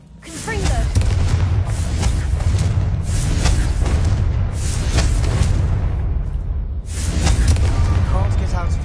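Repeated booming blasts from the Confringo blasting spell in the Hogwarts Legacy video game, several loud explosions in succession with rumbling tails and short gaps between them.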